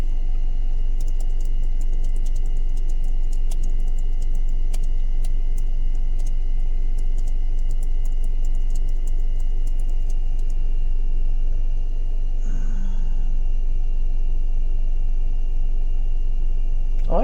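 A car sits with its engine on, giving a low, steady idle rumble that holds throughout, with faint ticking and a brief clunk near the end.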